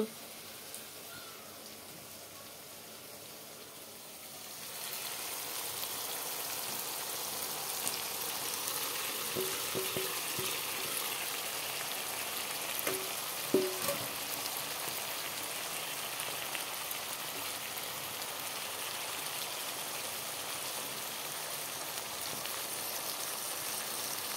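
Small fish frying in a pan with chopped tomatoes gives a steady hiss and sizzle that swells after a few seconds and keeps going evenly with faint pops.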